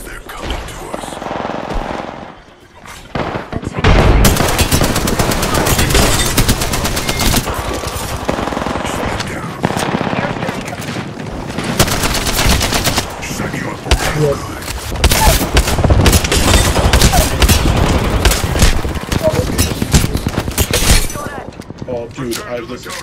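Heavy, nearly continuous gunfire in an Apex Legends firefight, loud bursts of automatic fire and impacts after a brief quiet start, with voices talking over the shooting.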